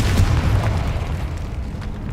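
A Confringo spell explodes in Hogwarts Legacy, giving a loud, heavy boom with a deep rumble that rolls on and slowly fades over two seconds, with no voices.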